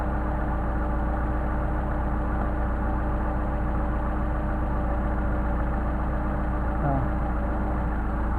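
Mercedes 190SL engine with Solex carburetors idling after an idle mixture screw adjustment, a steady even running drone with a faint rhythmic pulse, close and continuous throughout, no voices.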